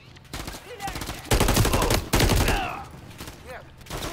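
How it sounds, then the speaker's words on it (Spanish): Rapid automatic gunfire from the video game Call of Duty: Modern Warfare III, with loud, dense bursts in the middle and sporadic shots around them, mixed with other game sounds. "¿Por qué disparan tan raro?"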